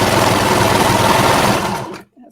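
Domestic sewing machine running steadily as it stitches stretched binding onto a garment neckline, a loud continuous close whir that stops abruptly near the end.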